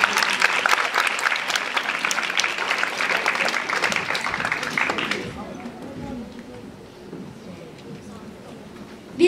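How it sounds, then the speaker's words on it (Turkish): An audience at a TEDx teachers' event claps loudly for about five seconds, and the applause then fades into quieter room murmur. "Birbirinden güzel ve ilham verici konuşmalar için öğretmenlerimize kocaman bir alkış rica ediyorum."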